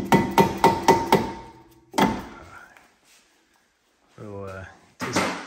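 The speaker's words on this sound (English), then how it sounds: "This is a mallet." A mallet strikes in a quick run of four or five sharp, ringing blows during a front wheel bearing replacement on a 2006 Porsche Cayman S 987, followed by a single heavier hit, then a scrape and more knocking.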